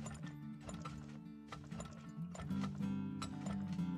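Faint hoof clip-clops from horses in the oil-drilling video game Turmoil tap in a loose rhythm beneath quiet, steady game music tones, with no talking.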